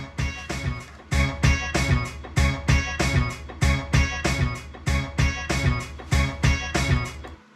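Punchy synth stabs in an up-tempo 90s battle rap beat, short bright chord hits repeating in a tight rhythmic pattern over a driving drum groove, loud and upfront with no voices.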